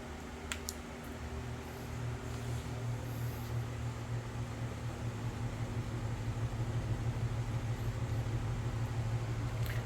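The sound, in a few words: Leslie speaker cabinet bottom rotor running on fast motor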